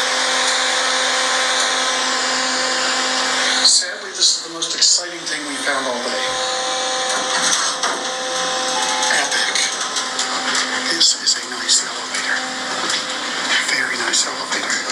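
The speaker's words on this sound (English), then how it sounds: "Elevator. Very nice elevator. There it goes." Old Otis Series 1 hydraulic elevator in the Creamery Building running with a steady mechanical hum and whine, joined partway through by rattling and knocking as the car moves, with people talking over it.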